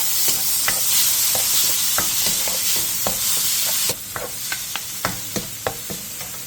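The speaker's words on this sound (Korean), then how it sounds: "팬에 기름을 두른 뒤 두부와 소금 2분의 1티스푼, 다진 마늘 3분의 2스푼을 넣고 센 불에서 1분 정도 볶아주세요" Tofu stir-fried with salt and minced garlic in an oiled pan over high heat, a steady loud sizzle broken by frequent sharp spatula scrapes and taps, the hiss dropping a little partway through while the stirring clicks continue.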